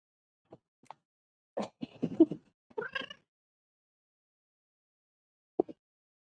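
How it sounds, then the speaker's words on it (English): Several short cat meows and yowls indoors, a couple of isolated brief calls then a denser cluster of louder cries, followed by a long silence and one final meow. "sounding like a Minecraft cat over there"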